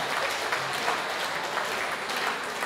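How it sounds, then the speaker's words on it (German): A crowd at a Pielachtal Gstanzl folk singing event gives a singer a big round of applause, a fairly distant, steady wash of clapping. "Gibt's einen riesen Applaus"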